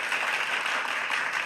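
A short applause sound effect, a burst of many hands clapping, even and fairly loud for about a second and a half with no talk over it.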